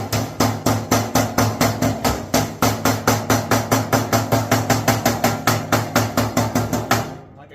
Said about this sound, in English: if you want to put it back on its bottom and just finish hammering them in